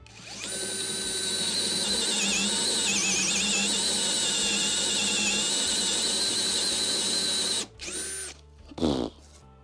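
Einhell TE-CD 18/40 Li BL cordless drill driver running at speed 1 while drilling into a workpiece, a loud steady high whine held for about eight seconds, then stopping with a couple of short bursts at the end.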